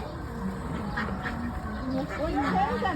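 Ducks quack repeatedly nearby while people talk over them outdoors.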